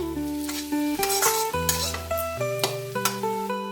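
Fish-head and cabbage curry with turmeric is stirred in a pan in repeated scraping, sizzling strokes, set against steady melodic background music.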